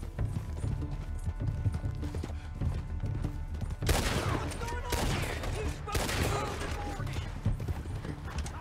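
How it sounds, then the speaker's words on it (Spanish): Shotgun blasts ring out in the western game Red Dead Redemption 2, several sharp loud reports in the second half over steady background bustle and hoofbeats, with speech in the mix. "Con la escopeta, aunque no les apunte bien."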